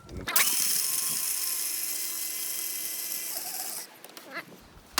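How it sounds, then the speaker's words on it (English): An electric coffee grinder grinds whole beans with a loud, steady high-pitched whine for about three and a half seconds, then cuts off into quieter clattering and handling sounds, running off an inverter at an outdoor campsite setup. "So got the whole beans and grinder today."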